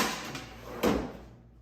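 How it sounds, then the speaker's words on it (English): A drawer slide snaps as it breaks: one sharp, loud crack midway through, standing out over a steady low background hum. "The snapping you're about to hear is the actual breaking of the drawer slide."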